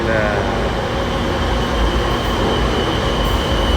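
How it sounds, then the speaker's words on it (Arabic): A military tram/metro train stands waiting at a station, giving off a steady broadband rumble with a faint squeal and hum, continuous and fairly loud throughout, with no clear speech over it. "هذا الترام المترو العسكري واقف"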